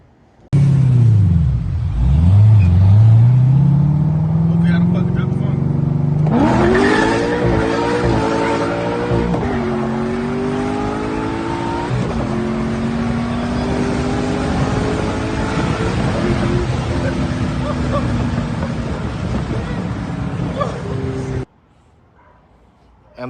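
A Corvette C6 Z06 engine revs up hard in a hard pull, rising in pitch through several gear shifts, loud and close, before cutting off abruptly near the end.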